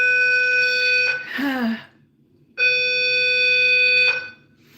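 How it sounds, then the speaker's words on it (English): A fire alarm sounds in two long, loud, steady electronic tones separated by a brief gap, with a short burst of voice squeezed in after the first tone. "Okay, so there's a bit of a fire alarm."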